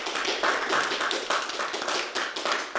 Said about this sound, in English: So I just want to thank them and give them a round of applause